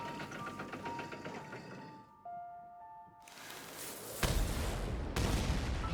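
A cannon fired in Genshin Impact, heavy thumping booms landing in the second half after a stretch of tonal game music and mechanical ticking, each blast loud and abrupt.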